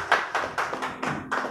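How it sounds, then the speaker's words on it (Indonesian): Clapping from a small audience at a Tegal economic recovery gathering, with about six evenly spaced bursts of hand claps in a steady rhythm at moderate volume. "kita beri tepuk tangan"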